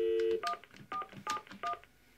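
Telephone keypad DTMF tones: a series of short, distinct two-tone beeps in an irregular rhythm, clear and close, following a longer opening tone.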